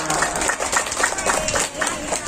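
Audience at an Islamic storytelling session clapping, a brisk patter of many hands close by, with crowd voices mixed in throughout.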